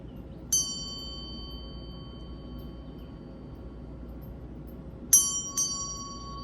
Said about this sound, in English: I'm going to ring the Ganti, or the bell here. It's Nepalese for bell.